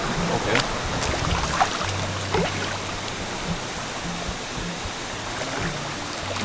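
A river flows steadily with a constant low rushing wash and faint trickling, heard alone in a quiet Jamaican riverside setting.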